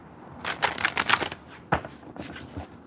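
Cards riffle and shuffle in quick papery bursts, close up, followed by a couple of sharp taps as the deck is squared.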